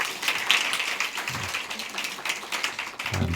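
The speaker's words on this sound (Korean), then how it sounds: "박수하겠습니다." A congregation at a Korean church service clapping to welcome a visitor from London, a dense, steady patter of many hands sustained throughout at moderate loudness.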